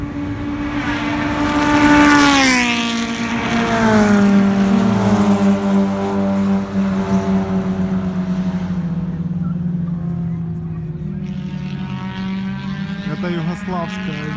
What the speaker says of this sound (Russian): сейчас гоняют старые машины заставы